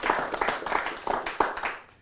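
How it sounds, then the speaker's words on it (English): A church-style audience clapping their hands, uneven scattered claps from several people close by, fairly loud and brief, ending abruptly. "Clap your hands if you believe that."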